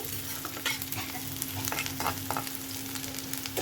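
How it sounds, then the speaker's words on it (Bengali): Onions fry in a pan to a medium golden colour, giving a continuous sizzling crackle with scattered light scrapes of stirring and a low steady hum beneath. "পেঁয়াজটা খুব লাল লাল করে ভাজবো না একটু মিডিয়াম করেই ভাজবো"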